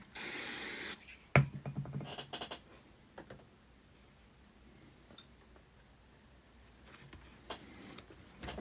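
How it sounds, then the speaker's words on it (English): Glue activator sprayed onto laser board at close range, a short loud hiss lasting about a second, followed by faint handling clicks and a quiet room. "I should help it on its way with a little bit of activated spray."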